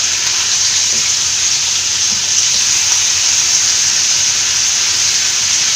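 Kayakora-style fish, ayakora, frying in a pan on medium flame, a steady, loud, close hiss and sizzle of hot oil running unbroken throughout, with no voices.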